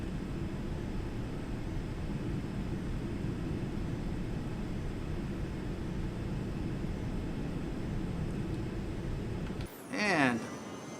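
Bombardier Learjet 45 engines held at full throttle in a flight simulator game, cruising at about 13,000 feet: a steady broadband roar that stays loud and constant, then a short tonal sweep near the end.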